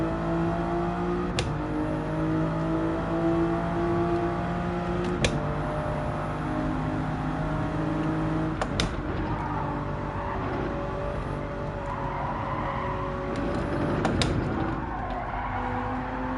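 A Toyota Supra race car in Gran Turismo 7 drones through sustained engine notes that rise and fall through gear changes, with brief sharp shifts and occasional tire noise along a long lap.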